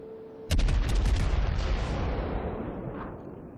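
Battleship main guns fire a heavy salvo at an enemy cruiser in a naval combat game: one sudden booming blast that rolls out into a long, slowly fading rumble.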